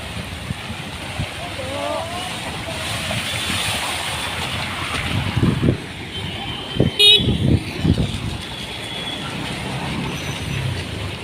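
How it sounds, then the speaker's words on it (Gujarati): A vehicle approaching down a hill road through waterlogged streets, with rumbling engine noise, a few horn toots and a brief sharp honk near the middle, under steady background noise and nearby talk. "આ તો પહાડથી ગાડી આવે છે"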